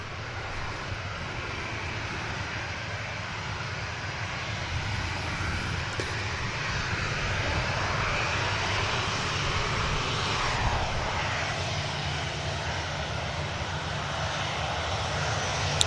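Ryanair airliner making a rolling start for takeoff at an airport: a steady, broad engine roar swells gradually over the whole stretch, loud and continuous, heard from a distance without talk.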